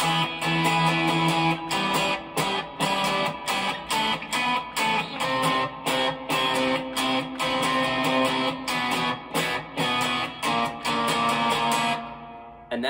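Guitar playing the Daniel in the Arpeggio's Den exercise with rhythmic down-up strums and chucks, a steady run of plucked chords and arpeggiated notes that stays loud and close throughout, without talk.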